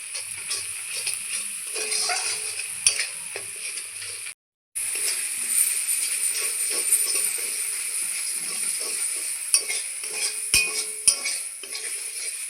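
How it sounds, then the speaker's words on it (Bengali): Radish greens frying in a pan, a continuous bright sizzle and hiss with frequent stirring, occasional sharp clinks of a utensil against the metal, and one brief dropout partway through. No one talks over it. "এইভাবে আমি ভেজে নেব ভালো করে।"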